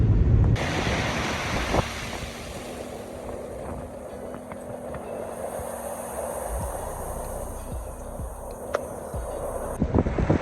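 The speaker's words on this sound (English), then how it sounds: "it's pretty windy out here if you can't tell" Strong wind on a beach in Golden Bay, New Zealand buffets the microphone in a steady roar, with surf and water noise underneath and occasional gusty thumps.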